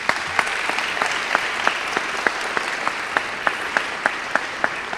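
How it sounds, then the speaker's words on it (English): An audience applauds at a high school awards ceremony, with dense, sustained clapping from a crowd in a hall and steady, sharper claps near the microphone running throughout. "Please join me in giving them a round of applause."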